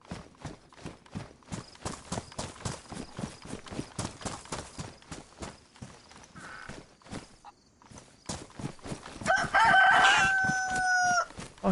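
Rooster crowing in the DayZ video game on PS4, a loud drawn-out cock-a-doodle-doo rising near the end over a steady clip-clop of footsteps, with a fainter crow earlier.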